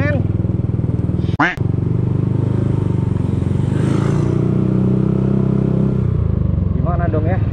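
A motorcycle rides along a wet, muddy road soaked by roadside water spray on the way up a hill, its engine humming steadily and close throughout, with a brief sharp clatter near the start and someone talking over it.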